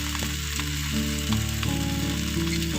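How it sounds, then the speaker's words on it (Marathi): Leftover chapati with vegetables pan-roasting until crispy gives a steady, loud sizzle with a constant frying hiss and a faint tonal hum underneath, close up with no talk. "चपाती छान अशी पलटून पलटून अशी छान अशी क्रिस्पी होईपर्यंत हे करून घ्यायचं"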